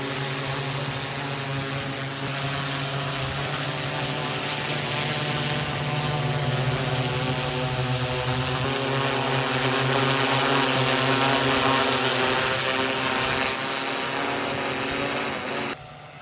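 A steady, loud whine of DJI Matrice 30T drone propellers hums continuously for several seconds in heavy rain, with a faint wash of rain beneath it, then cuts off near the end.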